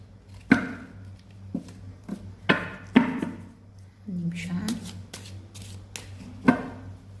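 Tarot cards being shuffled and drawn, heard as sparse close slaps, flicks and brief riffles spaced a second or so apart, fairly quiet, with a low steady hum and some speech in the background.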